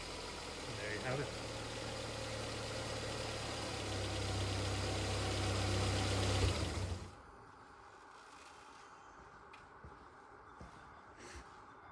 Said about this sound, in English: A lovely running engine